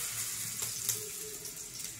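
Batter-dipped Bombay duck (lote fish) frying in hot oil as an evening snack, a steady hissing sizzle that runs continuously and close, with faint crackles on top.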